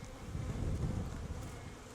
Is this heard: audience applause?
no